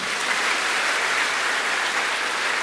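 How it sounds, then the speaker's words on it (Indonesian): A church congregation applauding the choir at an evening Mass for the Lunar New Year, a dense, even clapping that fills the room steadily throughout. "kita beri tepuk tangan"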